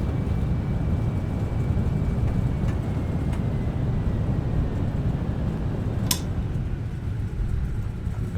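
Steady, loud broadband roar from an airliner's engines in reverse thrust just after touchdown in a flight simulator, holding constant throughout with a brief click near the end.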